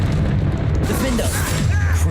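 Bombarda spell blasts in the game Hogwarts Legacy, a loud, continuous booming rumble with heavy low-end roar filling the short moment.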